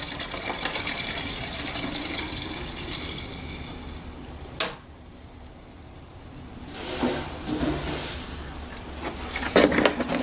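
Screen washing fluid pours from a bottle into the washer reservoir of a 2009 Mercedes W204 C-Class: a close, steady liquid trickle with brief gushing surges and a faint background hiss, with no talking.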